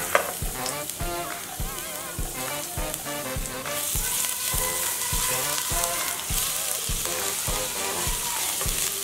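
Garlic frying in olive oil, a steady bright sizzle with a fairly regular run of stirring clicks and scrapes over background music, no voices.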